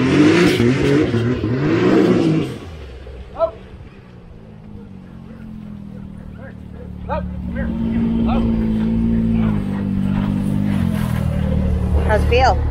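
Can-Am Maverick X3 side-by-side on a private road, engine revving hard at the start, then idling before a steady drone of acceleration, with people talking throughout.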